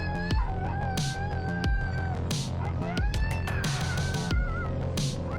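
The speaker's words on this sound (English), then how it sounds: "This cat is trying to hold on for dear life, but is not doing a great job steering the car." A cat meows repeatedly in a moving car, giving loud, drawn-out distressed wails with short gaps between them over a low, steady engine and road hum.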